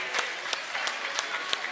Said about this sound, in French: Gardez l'applaudissement pour ces jeunes qui ont performé pour vous aujourd'hui